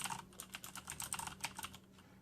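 Rapid clicky typing on a Corsair K70 keyboard with Cherry MX Blue switches, a close, brisk run of sharp key clicks in uneven bursts over a faint low hum, with no voice.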